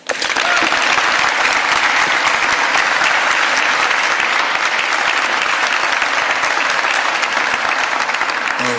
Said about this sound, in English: So please join me in welcoming this city leader to the stage, Councilman Kenyatta Johnson.